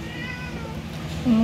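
A cat meows in a home kitchen over a steady background hum, one drawn-out, fairly loud call lasting about a second.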